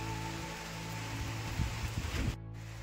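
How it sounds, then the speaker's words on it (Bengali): Heavy rain falls at Chitrey on a hill trek route near Manebhanjan, making a steady, broad hiss of rain on surfaces. A few louder patters come through before the sound briefly drops out near the end. "রাত্রি থেকে প্রচন্ড বৃষ্টি হচ্ছে চিত্রেতে"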